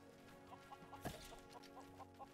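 A chicken in the Lego Worlds video game clucks in a short rhythmic series of soft, steady clucks over a faint humming game background, with one sharper louder cluck in the middle.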